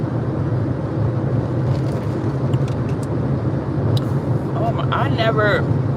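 Steady low rumble of a car driving, with road noise filling the cabin throughout, while someone talks over it.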